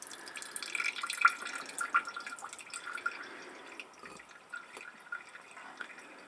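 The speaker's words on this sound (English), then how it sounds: "So the cleaner was sitting in the bottom here, and this was just the stuff that came out from just applying the product." Air filter cleaner dripping and trickling out of a reusable performance air filter during rinsing, a steady patter of small drips and splashes, close and soft.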